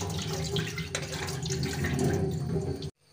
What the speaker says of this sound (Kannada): ಬೆಳ್ತಿಗೆ ಅಕ್ಕಿಯನ್ನು ಚೆಂದ ತೊಳ್ಕೊಳ್ಳುವ